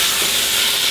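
Beef browning in hot olive oil in a pan, a loud, steady, close sizzling hiss with no break.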